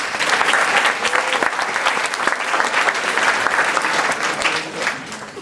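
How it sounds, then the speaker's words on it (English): Steady applause from a large audience at a parent-student symposium, dense clapping throughout with no break, fairly loud and close. "Give your administrators and your parents a round of applause."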